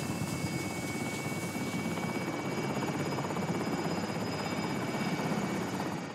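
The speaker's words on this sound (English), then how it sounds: "Come on, helicopter, hurry up." A helicopter in the Warzone video game drones steadily with a dense, rumbling rotor and engine roar that holds at an even level throughout, with no voices over it.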